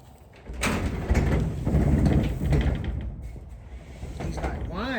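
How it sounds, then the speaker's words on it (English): A barn door rattles and bangs loudly in bursts, a rough clattering racket near a young horse being worked, with a person talking briefly at the end. "He's like, why is that door making such a racket?"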